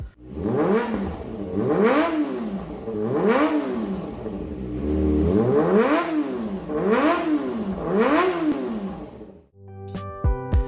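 A Kawasaki ZX25RR 250cc sport motorcycle engine revs hard in repeated rising and falling sweeps, loud and close, five or six throttle blips before a sharp stop.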